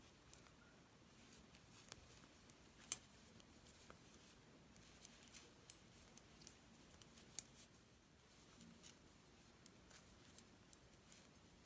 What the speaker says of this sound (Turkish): Bu ayraca kadar olan ilmekleri kesiyorum.